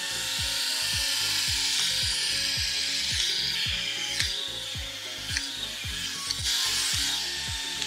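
Electric epilator plucking body hair, a continuous mechanical buzzing with rapid repeated clicking and ratcheting pulses, close and steady throughout.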